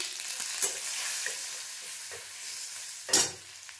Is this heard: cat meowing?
no